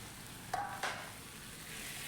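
Finely chopped dill greens go into a hot pan to cook in their own steam, with a faint hiss and two brief stirring clinks near the start.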